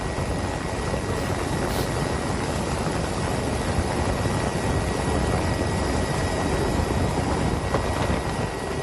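Steady, loud rotor and engine roar from an Indonesian Air Force Caracal helicopter in flight fills the whole clip without pause, close and constant.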